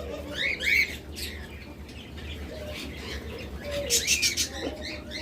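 A pair of Fischer's lovebirds calls in a bird shop, with short high chirps and squeaky bursts over a low, steady background hum, fairly faint and not very close.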